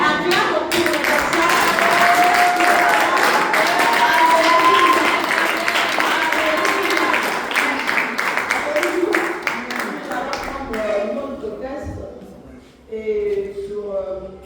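A church congregation breaks into sustained applause and clapping, joined by voices that fade toward the end as the crowd settles.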